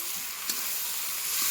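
Boiled lentils and banana stem are stirred in a hot frying pan, giving a steady close sizzle with a couple of soft scraping knocks from the spoon.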